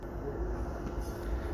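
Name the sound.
train at a station platform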